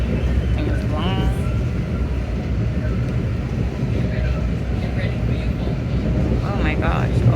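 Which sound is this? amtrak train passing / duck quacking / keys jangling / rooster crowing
amtrak train passing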